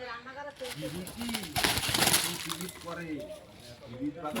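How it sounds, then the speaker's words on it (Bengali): Pigeons coo in low, repeated warbling calls close by as they are hand-fed, with a brief rustling burst of wings or scattering in the middle. "এখানে দেখছো খাবার দেবো আমরা পায়রাদের।"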